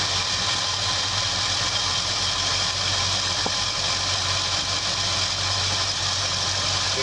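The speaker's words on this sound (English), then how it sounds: "it's idling way too low" A car engine idling too low in a workshop, a steady low rumble with constant vibration and a faint hum throughout, close and continuous with no talking.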